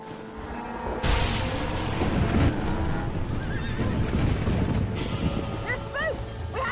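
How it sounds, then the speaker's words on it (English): Spooked horses neighing and stampeding in the Red Dead Redemption video game, a rumbling rush of hooves with several sharp whinnies rising over it, loud and continuous. "They're spooked! We have to stop them stampeding!"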